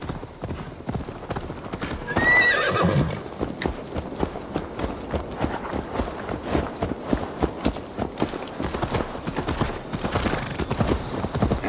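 Horse hooves clip-clop steadily in a video game, with a short whinny early on; the hoofbeats keep a constant walking rhythm over an ambient background.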